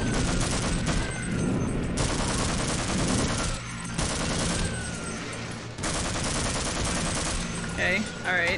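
Sustained automatic gunfire from the Half-Life video game, loud and continuous bursts of rapid shots with brief pauses between volleys, mixed with game sound effects.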